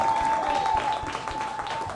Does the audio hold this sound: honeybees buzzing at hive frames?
no